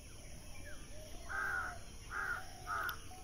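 A crow caws three times at intervals on a Bengali village morning, each harsh call clear and fairly close over a steady outdoor background hum.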